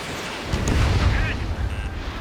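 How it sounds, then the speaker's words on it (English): Bombs explode in the Ace Combat 7 air combat video game, deep rumbling booms that swell in the middle and sit under a faint steady engine roar, with small electronic beeps on top. "They're bombing us!"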